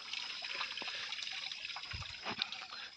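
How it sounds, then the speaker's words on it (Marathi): Water from a solar-pumped farm pipeline trickles and splashes quietly for cotton irrigation, a faint continuous flow with small gurgles and drips. "पाणी सुरू आहे"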